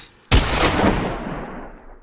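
A single loud gunshot cracks sharply during a bull run, then a long rumbling echo slowly fades away.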